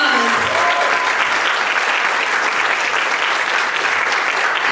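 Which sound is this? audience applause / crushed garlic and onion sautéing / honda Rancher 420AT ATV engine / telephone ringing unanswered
audience applause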